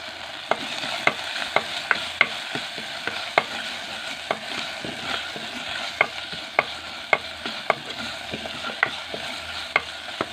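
Ginger and garlic fry in a pan for a bitter gourd curry, with a steady sizzle under sharp, repeated clicks and scrapes of a spoon stirring against the pan, close and fairly loud, no talking.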